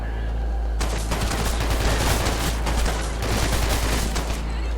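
Rapid automatic gunfire in a video game starts abruptly after a quiet moment and rattles on in dense bursts, loud and close, with a brief lull before resuming.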